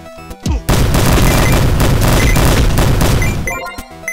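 Bombs exploding in the video game Super Muzhik, a short burst of blasts followed by a dense, loud barrage of rapid booms and crackling detonations that rumble on for about three seconds, then stop abruptly.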